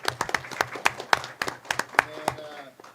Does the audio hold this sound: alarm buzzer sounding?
no